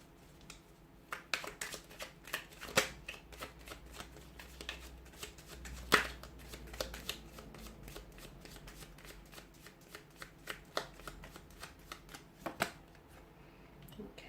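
Tarot cards are shuffled in a long run of quick riffling flicks and soft slaps, close and fairly quiet, with no talking.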